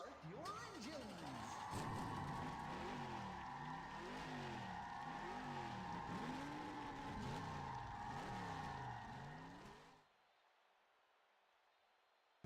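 Race car engines on the track at Chicagoland fire up and roll off together as a field, a loud, steady droning roar with overlapping pitch swells from several cars, cutting off abruptly near the end.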